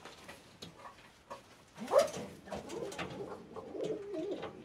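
Crested fancy pigeons in a breeding loft give soft, low, throaty coos, rising to one louder burst before settling into a steady murmur of calls nearby.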